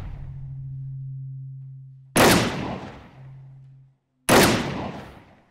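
Two loud pistol gunshots in a thriller film scene, each a sharp blast with a long decaying tail, about two seconds apart, over a low steady hum.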